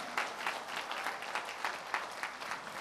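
Audience applause for graduates at a Korean disciples' college graduation ceremony, a crowd clapping steadily with distinct individual claps punctuating a rhythmic wash, moderately loud and uninterrupted for a few seconds.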